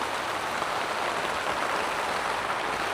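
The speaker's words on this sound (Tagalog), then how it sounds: "Sobrang lakas ng ulan." Heavy typhoon rain pours down steadily, a dense, loud hiss of drops striking surfaces that holds constant throughout with no other sounds.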